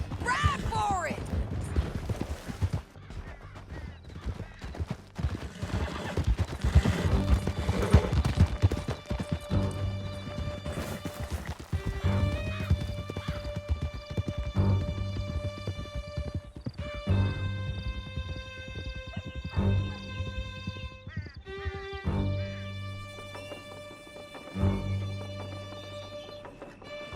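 Horses gallop through a canyon in the Red Dead Redemption II video game, a dense, rapid clip-clop of hooves under orchestral music with shouted voices and occasional whinnies.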